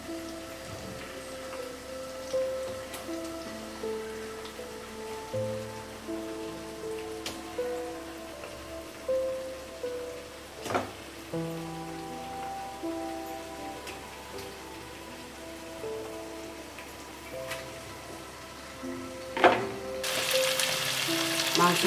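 Chicken pieces sautéing in a pan, a soft continuous sizzle with crackling pops and occasional scraping stirs, under a faint melodic tune in the background.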